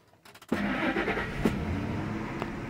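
Ford F-150 engine cranking briefly and then catching, settling into a steady, loud idle that holds to the end, with no voices over it.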